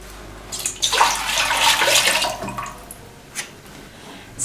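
Liquid is poured in a steady, rushing stream onto dissolved yeast in a bowl. The close, splashy pour runs for about two seconds and then tapers off into a few softer trickles.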